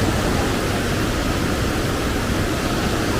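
Fierce river rapids at Riam Udang in Mahakam Ulu, a dense, unbroken roar of rushing water over large rocks, loud and close from start to end.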